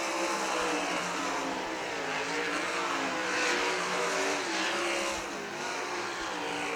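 Race cars roar around the Millstream Speedway oval during a heat race. Engines howl in a continuous dense drone that swells and eases slightly, with no break in the noise.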